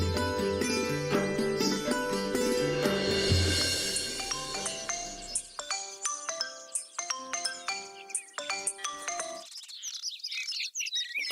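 Mobile phone ringtone playing a melodic, chirpy tune at moderate volume, continuous at first and then as repeating short tonal phrases with gaps, with no speech.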